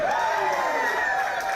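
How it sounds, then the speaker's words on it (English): Basketball fans at an SEC tournament game roar and cheer in a loud, continuous crowd wash, with whoops rising over the sustained din. "Fans have a lot to cheer about this SEC tournament."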